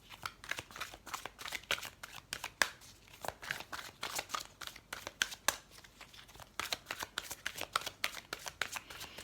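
Tarot cards being shuffled for a reading, a quick series of soft papery riffles and flutters repeating in bursts, close and fairly quiet, with no talking.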